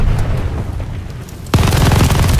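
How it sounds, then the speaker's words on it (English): A grenade blast in Call of Duty: Vanguard erupts as a sudden loud boom partway through, after a stretch of quieter battlefield ambience, with the rumble sustaining to the end. "Incoming grenade."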